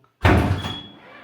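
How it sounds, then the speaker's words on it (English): A Tesla Model X power frunk, an aftermarket Tes Studio install, opens with a sudden loud mechanical thunk and a whirring motor sweep that fades over about a second, with no talk. "I'm gonna go on my app and I'm gonna click open Frunk."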